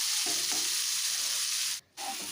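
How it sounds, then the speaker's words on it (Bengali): Onion frying in a pan for vegetable chow mein, a bright continuous sizzle with occasional stirring scrapes and a brief pause near the end. "পেঁয়াজটা দিয়ে এক মিনিট মতন একটু রান্না করে নিচ্ছি"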